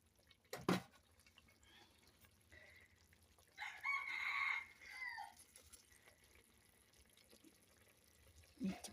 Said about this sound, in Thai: ไก่บ้านไก่เฮาเลี้ยงเองเนาะ